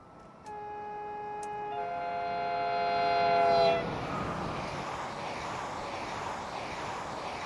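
A Class 90 sleeper train in Train Simulator Classic sounds a two-tone horn that grows louder over a few seconds, then a broad rumble of wagons passing close by, loud and steady, with no talking.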